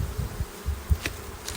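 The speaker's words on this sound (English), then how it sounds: "The bees in the box." Honey bees buzzing inside a box, a close continuous insect drone with small bumps and rises, heard on its own with no talk.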